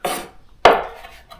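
A kitchen knife chops herbs for garnish on a board: two sharp, close knocks about half a second apart, each followed by a brief scrape, in an otherwise quiet room.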